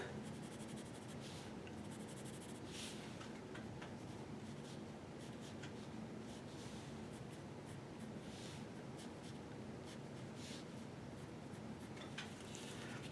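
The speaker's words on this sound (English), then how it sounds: "I'm going to erase this." An eraser rubs over a pencil drawing of a teenager's face on paper, a soft continuous scrubbing and scratching with short bursts of quicker strokes, close and quiet.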